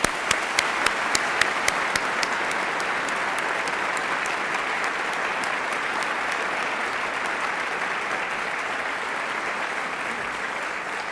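Audience applause greeting participants at a panel discussion on understanding America's terrorist crisis, a dense, steady wash of clapping from a large crowd that holds at an even level for the whole stretch.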